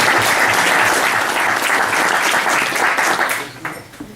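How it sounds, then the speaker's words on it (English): Dense applause from a room full of attendees at a charity walk kickoff breakfast, loud and sustained before thinning out and fading near the end. "just give yourselves a round of applause for making it out there this morning"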